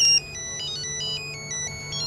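Mobile phone ringtone, a loud electronic melody of short repeating tonal notes playing continuously, close and clear, with no talk over it.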